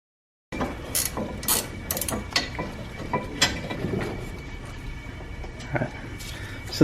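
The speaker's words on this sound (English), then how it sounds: "we'll undo these two size 18 bolts" A ratchet undoing the size 18 brake carrier bolts on a 2015-2023 Chevrolet Trax, with a steady run of close mechanical clicks over a faint hum of background noise.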